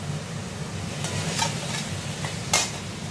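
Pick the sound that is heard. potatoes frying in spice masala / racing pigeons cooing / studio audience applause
potatoes frying in spice masala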